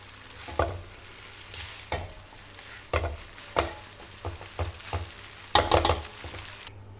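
Vegetable noodles tossed with green onion in a frying pan, with scattered scraping stir strokes over a soft background sizzle, a few sharper clatters standing out, no talking.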